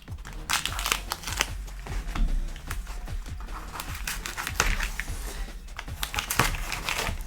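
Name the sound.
crumpling cardboard packaging from comic delivery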